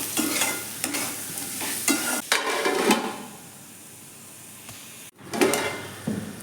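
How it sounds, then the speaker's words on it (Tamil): Close scraping and stirring of carrots frying in a pan with turmeric, with a soft sizzle beneath, a few sharp knocks of the spoon against the pan, and a quieter stretch before the stirring picks up again. "கொஞ்ச நேரம் கிளறி விட்டுட்டு மூடி வச்சுக்கணும்."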